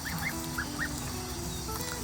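A one-month-old Tufted Toulouse goose honks a few times in quick succession, moderately close, over a steady low background rumble.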